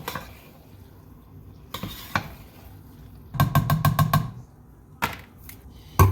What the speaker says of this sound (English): Cans of Rotel. I'm going to stir these in.